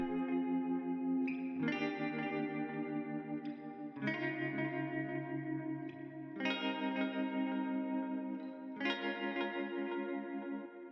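Sustained electric guitar chords with a shimmering chorus and echo effect change every couple of seconds, played alone and fairly loud.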